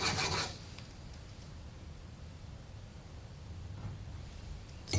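Steady rasping strokes of a plane blade being honed on a diamond sharpening stone, a continuous close scrubbing that runs almost unbroken, with a sharper scrape at the start and at the end.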